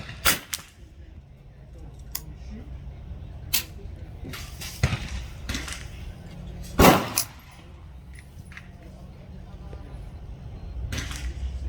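Sharp, sparse cracks from a Ruger 10/22 rifle at an outdoor range, a handful of irregularly spaced shots that sound somewhat distant over a low ambient hum.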